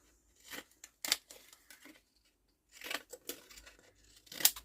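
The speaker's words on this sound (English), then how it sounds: "I'm just getting me pinking shears out." Pinking shears cut through paper in bursts of crisp, close snipping and crunching strokes, with quiet pauses between them and no talking.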